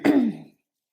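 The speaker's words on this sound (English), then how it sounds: "Need to clear my throat today." One short, close throat clear, a rough voiced rasp lasting about half a second before silence.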